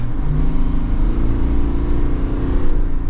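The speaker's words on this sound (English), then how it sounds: "So let's give it another mile acceleration." A 2023 Chevrolet Tahoe RST with a Duramax diesel accelerating, a loud, steady low engine drone heard from inside the cabin and swelling slightly over a few seconds.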